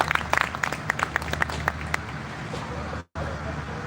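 An audience at a Rajasthani poetry gathering during the Chirawa festival breaks into sharp, scattered claps, dense at first and then thinning, with murmuring voices underneath and a brief dropout near the end.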